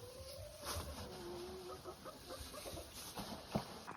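Farm chickens cluck softly in a yard, with a few faint calls scattered over low outdoor background noise and a small bump near the end.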